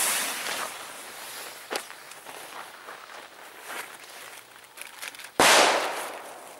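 XPLODE Silvestergewitter firecrackers, an old-school New Year's assortment, go off outdoors: one sharp crack early, scattered faint pops and rustle, then a loud close bang near the end that trails away.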